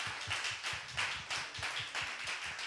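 Church congregation claps in welcome for visitors, a dense, continuous patter of many hands with no voices over it.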